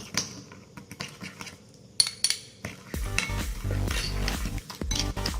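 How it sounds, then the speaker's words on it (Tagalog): Spoon or utensil stirring and clinking in a bowl as black pepper and paprika are worked into ground meat for skinless garlic longganisa, with soft scattered clinks giving way to denser, louder mixing and scraping. "You all have to mix it well."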